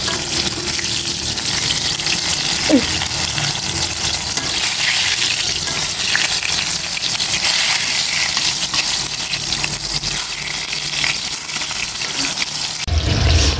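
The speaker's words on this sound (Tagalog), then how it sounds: "Magigisa naman po si Mama ng bawang." Garlic sautéed in butter in a pan, a steady loud sizzle and crackle running throughout, close and continuous.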